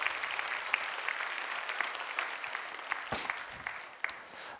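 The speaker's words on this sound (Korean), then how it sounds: "우리 박수 한번 해주셔요." A church congregation in Gunsan applauds during a Sunday service, a soft, steady wash of clapping from many hands that swells slightly near the end.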